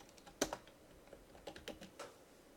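Someone types on a computer keyboard nearby, with a sharp first keystroke followed by a few scattered, irregular taps and short bursts of keys, all fairly quiet and with no talking.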